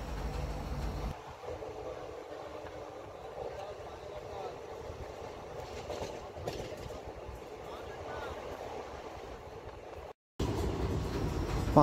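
The Amravati Express 18047 runs through Odisha from Kolkata toward Goa, heard as a continuous low rumble and rattle of the moving train that cuts out briefly near the end and then resumes.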